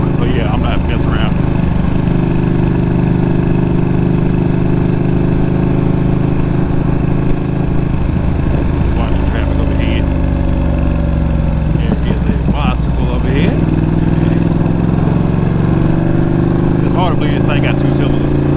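A 2020 Ducati Panigale V2 two-cylinder engine drones loudly and steadily on a road ride, a deep continuous rumble with wind noise and someone talking over it.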